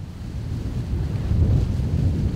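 Strong headwind and heavy sea swell at a rocky coastal fishing point on Udo island, Jeju, a steady loud low roar of wind buffeting the microphone mixed with surging waves, no voices.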